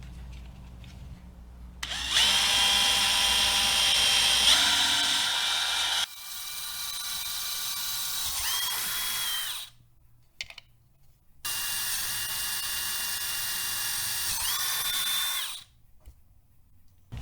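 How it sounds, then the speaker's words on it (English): An electric drill with a 1/4 inch bit whirs steadily through material in two long bursts, its pitch dipping as it bites, with a short pause between runs. "I'm using a 1/4 inch diameter drill bit for the 1/4 inch hardware"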